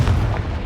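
A Confringo fire spell blasts in Hogwarts Legacy, a short dense burst of booming, low-heavy energy that stays loud through its brief span with no voice over it.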